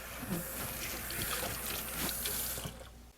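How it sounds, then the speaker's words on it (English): Hands are washed under a running tap at a stainless steel kitchen sink, a steady close hiss and splash of water that lasts throughout and cuts off near the end. "I'm just going to wash my hands and then rub my hands across the stainless steel"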